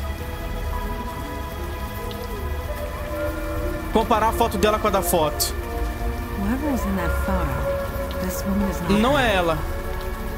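Steady rain falling in the Unavowed adventure game, a constant wash running under two people talking in Portuguese, with brief tonal game sounds rising over it midway and near the end.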